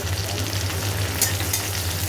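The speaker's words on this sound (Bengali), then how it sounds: "একটু ভাজা হোক, তারপরে ডিমটা দেবো" Onions fry in a pan, giving a close, continuous crackling sizzle with a steady low hum beneath and a few sharper pops, with no talking.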